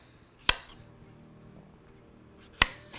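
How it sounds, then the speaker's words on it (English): A knife cuts the ends off a cucumber in two sharp, separate chops on a board, each a crisp close tap with quiet kitchen room tone in between. "now we're gonna cut off the ends of this cucumber"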